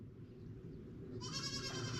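A small sheep inside a farm gives a single bleat partway through. The call is fairly faint and set against a quiet outdoor background.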